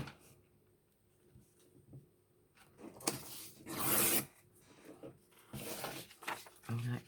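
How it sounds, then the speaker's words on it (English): An old piece of music paper is torn down in a few short rasping rips for a junk journal document holder, up close, with brief quiet handling between the tears and no talk over them. "So again, I'll just tear that down a bit."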